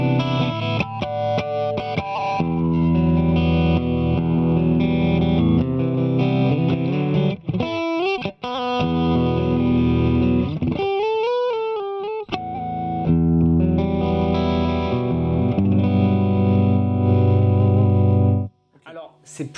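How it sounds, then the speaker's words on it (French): Electric guitar played through a chain of effect pedals without an EQ pedal, a distorted, chorused and reverberant tone with busy melodic runs and tapped harmonic-like passages, loud and continuous before a brief final chord. "vous faire écouter sans le Boss EQ200 parce que vraiment on l'a taillé pour faire ressortir les basses, les aigus"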